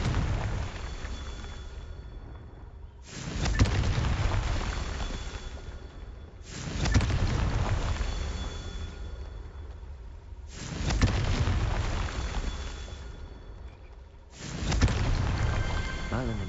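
Four loud, blasting explosions from the Confringo spell in a Hogwarts video game, spaced a few seconds apart, each a sudden burst that trails off into a rumbling hiss before the next one.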